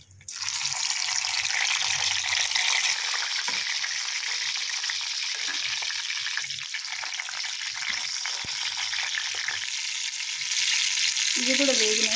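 Brinjal poornam fritters deep-fry in a pan of hot oil, giving a continuous, loud bubbling sizzle that carries on steadily, with a few faint clinks and a lower watery rumble near the end.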